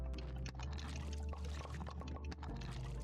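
Water pours continuously in the farming video game Graveyard Keeper, a dense, steady splashing gush filling the whole moment at moderate volume with no talk.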